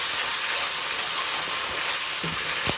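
Pepper puree sizzles and hisses steadily in a hot pan while cooking for peppered beef skewers; the frying noise is loud, close and continuous, with a couple of faint utensil bumps and no talking.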